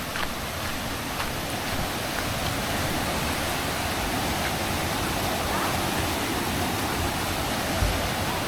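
Strong stream water swollen and muddy after rain in a Konkan village, rushing with forceful flow as a steady, broadband roar that holds even and close throughout, with no clear voices over it.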